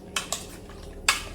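Curry ingredients mixed in a pan, heard as three sharp clinks and scrapes of a utensil against metal, two close together and a louder one after a pause, over a faint background hum.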